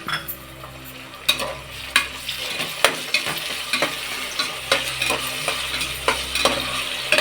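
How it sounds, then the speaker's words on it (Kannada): Tomatoes frying in a pan with onion and green chillies, a steady sizzle broken by regular scraping stirs of a spoon against the pan, close and fairly loud, no voices. "ಚೆನ್ನಾಗಿ ಫ್ರೈ ಮಾಡ್ಕೊಳ್ಳೋಣ, ಒಂದು 2 ಮಿನಿಟ್ಸು."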